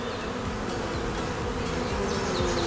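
Honeybees swarm around an open hive in a continuous, dense buzzing drone, close and steady throughout with no voices.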